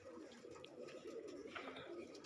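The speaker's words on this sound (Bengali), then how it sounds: "আর এখানে যে ধরনের কবুতর দেখতে পারছেন" Pigeons coo softly in a low, rounded murmur, faint and steady across the short stretch, with a few higher chirps near the end.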